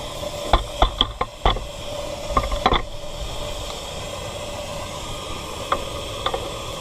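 Steam traction engine with its blower on, a steady soft hiss under scattered metallic clicks and knocks, close and fairly quiet.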